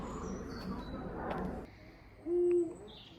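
A large owl in Britain gives a single short, clear hoot after a stretch of quiet rustling background, close and distinct.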